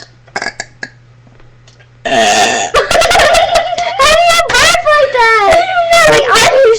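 Several loud, drawn-out burps from a casual group session, the second half crowded with long voiced belches, some rising and warbling, with laughter and chatter around them and a few quieter clicks and sounds early on.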